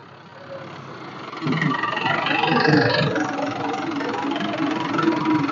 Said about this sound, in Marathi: संपूर्ण असा ट्रॅक्टरच्या साह्यानं हे मल्चर मशीन आहे